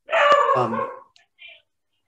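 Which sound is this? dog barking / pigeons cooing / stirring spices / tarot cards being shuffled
dog barking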